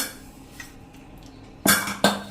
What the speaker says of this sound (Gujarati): તો હવે આપણે કુકર પણ ખોલી લઈએ